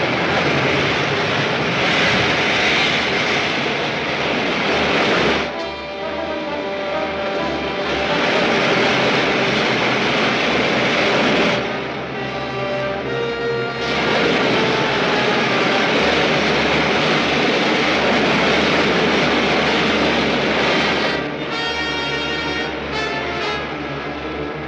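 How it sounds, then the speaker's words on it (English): Rocket ship main jets fire in a film sound effect, a loud roaring engine wash in long sustained bursts that briefly dip and surge again, heard alone without voices. "Firing main jets."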